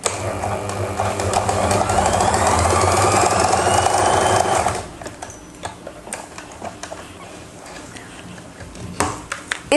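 A sewing machine stitches elastic into trousers, running loud and steady for about five seconds before stopping, followed by quieter clicks and handling noises.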